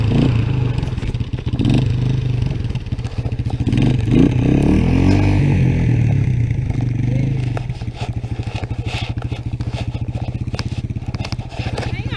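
A three-wheeler ATC all-terrain vehicle engine drones and revs while riding through deep snow in a snowstorm, steady and fairly loud throughout, with people talking over it.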